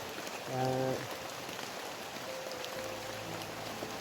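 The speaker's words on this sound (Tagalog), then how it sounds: "Tol, ang lakas talaga ng ulan, tol." Heavy rain pours down steadily outdoors among leaves, a constant broadband hiss with brief tonal noises early on and a low hum near the end.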